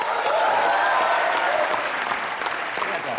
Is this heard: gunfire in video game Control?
no